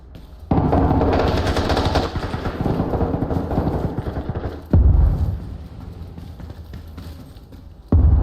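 Heavy gunfire in the military video game Arma Reforger, with dense bursts of rapid automatic shots, a sudden louder boom partway through and another burst at the end, all fairly close and loud.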